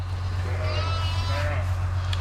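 Newborn lambs bleating close by in a lambing barn, several thin wavering calls overlapping across a couple of seconds above a constant low mechanical hum.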